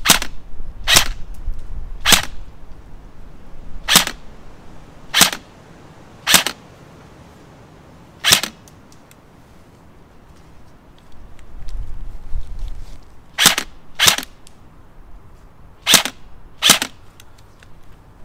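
An airsoft gun fires single BB shots outdoors, about a dozen sharp cracks spaced irregularly, mostly alone against light wind noise, with a brief pause and low rumble midway.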